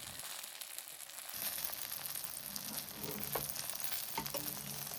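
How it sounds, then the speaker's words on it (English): Eggplant slices fry steadily in a pan, giving a continuous close sizzle with faint crackles and occasional light scrapes as the pieces are moved and turned. "Then turn them open again to brown the eggplant evenly."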